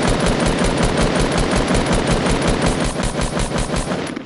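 Relentless rapid-fire gunfire from a Fortnite 1v1 fight, a loud continuous stream of closely spaced shots that barely lets up across the whole stretch.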